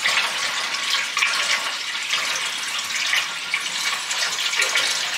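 Cold creek water in winter is poured steadily through a filter, a continuous close splashing gush that stays loud and even from start to finish, with no voices.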